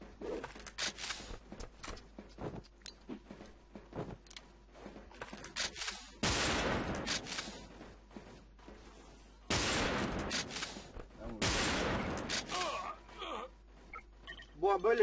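Rapid bursts of video game gunfire crackle in short volleys, with three long, loud broadband blasts that sound like sustained automatic fire or explosions, while someone talks over much of it.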